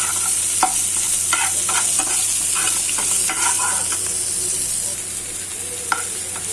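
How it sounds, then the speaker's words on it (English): Onion sizzles and fries in a pan with jeera, methi, saunf and a bay leaf for a Bengali aloor dum, a steady close hiss broken by stirring scrapes and clinks, with no talking. "we are going to toss in the onion now"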